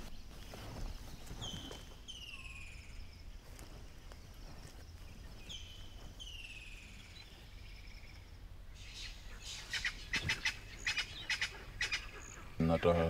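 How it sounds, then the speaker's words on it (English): An African bird gives repeated alarm calls, short descending whistled notes in small clusters, fairly near over a quiet outdoor background, with shuffling and faint movement noise toward the end. "it's an alarm call. Something like a predator nearby."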